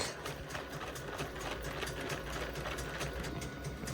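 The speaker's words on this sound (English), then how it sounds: "if you excuse the clickety-clacketing of Roland the big printer" A large Roland printer printing white ink runs with a steady mechanical clicking and clacking rhythm, loud and continuous throughout with no pauses.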